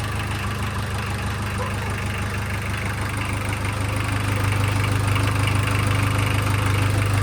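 A boosted Mk2 Golf engine with freshly rebuilt internals idles close by in a continuous low throbbing rumble that rises a little in loudness toward the end, with no voices over it.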